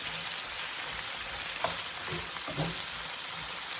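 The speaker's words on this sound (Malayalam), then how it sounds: "ഞാൻ ഈ എടുത്തു വെച്ചിരുന്ന സവോളയും പച്ചമുളകും ഇതിനകത്തേക്ക് ഇട്ട് കൊടുക്കുകയാണ്. എന്നിട്ട് ഇതിനെ നന്നായിട്ടൊന്ന് ഇളക്കി കൊടുക്കുക." Sliced onion and green chili sautéing in a pan for Kerala-style egg roast, a constant hiss of frying with a few brief stirring knocks and scrapes, no talking.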